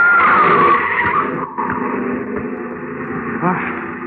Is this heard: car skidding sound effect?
yes